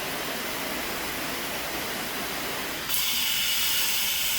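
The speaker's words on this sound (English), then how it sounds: "It's got like this really heavy heart spray that you can use." A matte black Brantford shower head sprays water in a steady broadband hiss that abruptly shifts to a brighter, harsher spray partway through as the setting changes.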